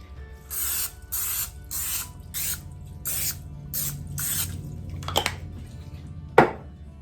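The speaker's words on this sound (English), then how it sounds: "I think I am going to spray it with some nonstick" Several short hissing bursts of nonstick cooking spray onto a baking dish in a steady rhythm, close by, followed by a couple of clinks against the dish.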